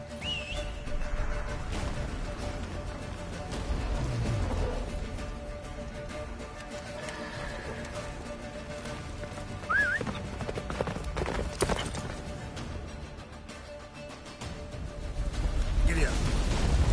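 A horse gallops in The Witcher 3 with quick, rhythmic hoofbeats that run steadily throughout, alongside game music and whistling sounds, while characters talk over it.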